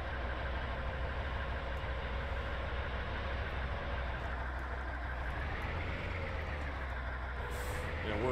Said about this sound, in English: Now we'll just put the truck in there.